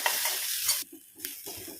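Dry coconut frying in a pan: a steady hiss and scrape of stirring, with a brief pause and quieter scraping toward the end.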